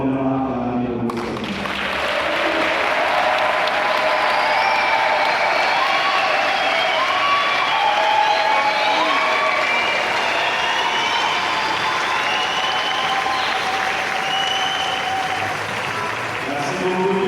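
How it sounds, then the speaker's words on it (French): A congregation applauds and cheers in acclaim of the Lord: dense, steady clapping mixed with cheers that swells in and holds loud and continuous for about sixteen seconds. "Est-ce que nous pouvons maintenant acclamer le Seigneur?"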